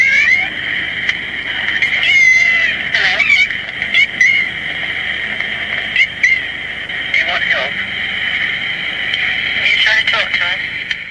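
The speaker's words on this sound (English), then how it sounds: "But this cat seemed to say hello, and Joe was knocked out by it, you know." A cat on an old tape recording wails in long, rising, voice-like meows that sound almost like a human greeting, loud and close, repeating throughout against a hissy background.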